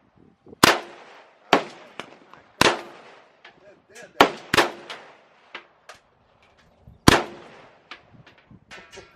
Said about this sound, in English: I don't want to shoot that no more.